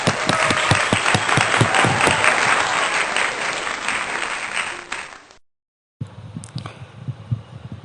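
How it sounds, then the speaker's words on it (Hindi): A congregation at a Sunday church service gives loud, dense applause that slowly tapers off, breaks into brief silence, then resumes as lighter scattered clapping. "तालियां।"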